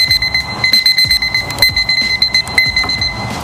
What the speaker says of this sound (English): at some point, all of the timers will go off